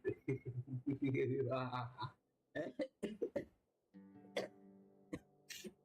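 A voice talks and laughs, broken by a few short, sharp coughs and throat clearings in close succession, dry and nearby, with brief pauses between bursts.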